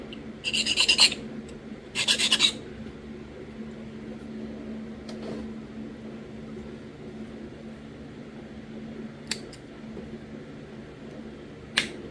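Two short bursts of rasping as a flintknapped stone point is sharpened, each about half a second, followed by faint scattered clicks over a low steady background hum.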